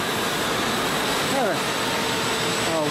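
A 1.5 horsepower, 110-volt electric motor driven through a PFD runs a seaweed press for sargassum, giving a steady, loud, unbroken whir with a faint rising whine partway through.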